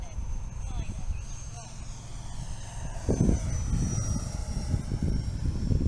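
Flyfans 64mm L-39 electric ducted-fan RC jet on a 6S battery cruising overhead, a continuous whooshing whine that swells louder midway, with someone talking over it.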